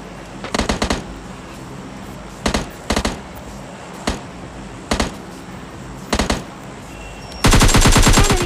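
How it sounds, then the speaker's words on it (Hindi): Gunfire from fighting enemies in PUBG Mobile Lite comes as repeated short bursts of automatic shots spaced a second or so apart, ending in a longer, louder sustained burst. "इनको थोड़ा दो तीन हेड लगाता हूँ"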